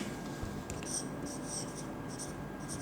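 Marker or chalk writing on a board during a physics class on current electricity, heard as soft scratchy strokes in short bursts over steady room noise, with no talk.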